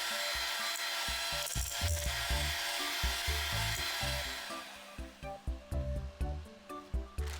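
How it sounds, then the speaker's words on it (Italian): An electric hand whisk beats cream with cold condensed milk toward stiff peaks: a steady, close motor whir that breaks into choppy rhythmic bursts near the end. "Continuo a lavorare con le frusta elettriche fino a quando risulterà a neve fermissima."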